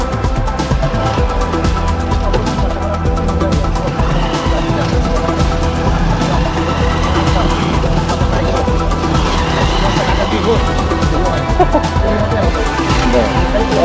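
A car drives along a rough, rain-slick road through a forested area, giving a loud, constant engine rumble with rattling, bumping jolts throughout. Voices talk over the driving noise.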